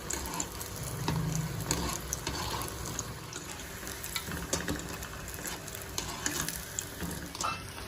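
Potato snacks frying in oil over a low gas flame until crisp, a soft continuous sizzle and bubbling that stays quiet and even throughout, with no talking.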